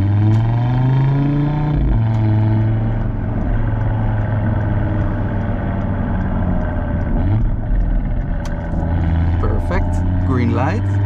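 A 2015 Audi RS3 with the 2.5 TFSI five-cylinder, exhaust droning loud from inside while driving, with the pitch dropping at a shift and then climbing again as it accelerates.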